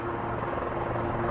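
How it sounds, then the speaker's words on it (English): A helicopter coming in, heard as a steady low rotor and engine rumble that stays even and fairly loud throughout, with no talking. "helicopter's coming in"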